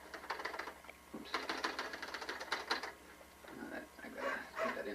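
A manual typewriter clacks in rapid irregular bursts of keystrokes, with a short pause partway through and mechanical rattles in between, close and fairly quiet.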